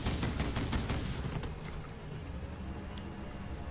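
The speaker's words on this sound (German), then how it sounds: "Schießen." Rapid gunfire in Borderlands 3 rattles off as a dense, close volley that thins out and fades into softer scattered shots and background game noise.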